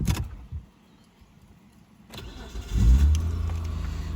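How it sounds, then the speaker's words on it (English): A 2001 Mitsubishi Magna Si (TJ) has its key turned; after a click and a brief pause the starter cranks and the engine fires on the first try, settling into a steady close idle. "we're going to quickly start her up for you"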